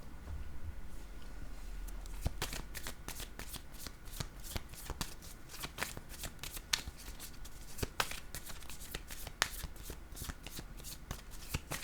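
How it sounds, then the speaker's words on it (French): Playing cards are handled and set face down on a table, a quiet series of crisp slaps and flicks repeating irregularly over a faint background hiss. "Je vais déposer une carte sur le yes à l'envers."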